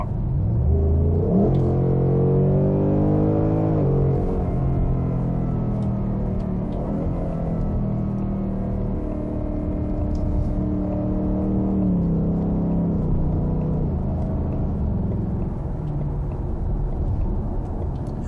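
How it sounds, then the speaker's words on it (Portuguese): A Ford Mustang Mach 1 in Sport Plus mode accelerates through its 10-speed automatic, its deep engine rumble rising in pitch and dropping at each quick upshift, heard from inside the car and loud throughout. "Como você pode perceber, o câmbio de 10 marchas ele aproveita muito bem todas essas marchas."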